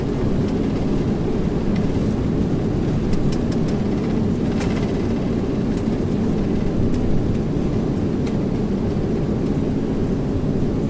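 Reverse thrust roaring from the engines of a Philippine Airlines Airbus A330-300 during landing rollout in a flight simulator, a loud, steady broadband rumble held across the whole stretch with no talk.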